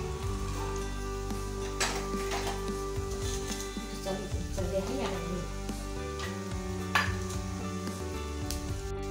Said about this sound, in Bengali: এগুলো না এইভাবে ভেজে নেব।